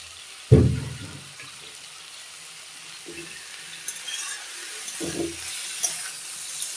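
Kechki fish coated in salt, turmeric and mustard oil drop into a hot pan with a sharp sizzling burst, then softer hissing and stirring clatters follow, close and alone.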